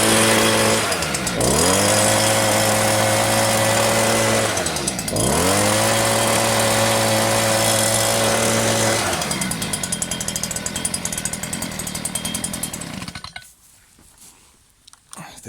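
A STIHL SH 86 handheld blower with an Elasto Start pull cord, fired up and running loud and close: two sharp throttle blips in the first half settle back to a steady high idle, then the engine cuts off near the end, leaving quiet.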